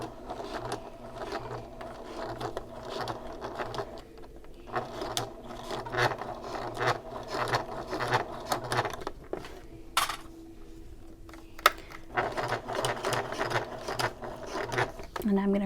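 A sewing machine stitches thick bag fabric in repeated bursts of rapid mechanical whirring, separated by brief pauses and a faint clack, with occasional speech underneath.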